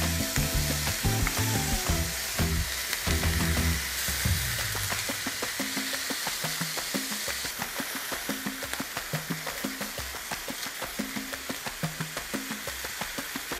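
A homemade ground beef patty grills on a hot surface, giving a steady close sizzle with crackling pops and an irregular ticking pattern throughout, with no talk.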